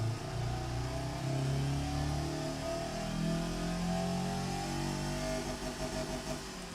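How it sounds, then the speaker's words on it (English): A car engine in the Automation car-building game, not a race engine, revs steadily up to its rev limiter and holds there, a loud, continuous drone with slight wavering and no talking over it. "Now, she's capping now at the rev limiter."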